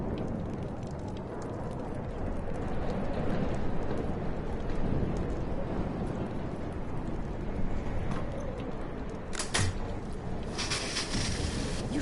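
Dense rain pours steadily in a storm in the video game Life Is Strange, with low rolling thunder underneath and a couple of sharp crackling bursts near the end.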